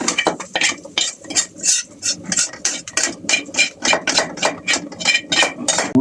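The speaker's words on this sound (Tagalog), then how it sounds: "nagigisa natin to para ihalo natin dito sa ating" Rapid, rhythmic scraping and clinking of a utensil stirring food in a pan while sautéing for chicken feet with mung beans and glass noodles; steady, close strokes with no talking.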